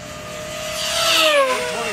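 E-flite V1200 RC jet at full throttle, a rising high whine sweeping past overhead and swelling louder before easing, with a pitch shift as it passes.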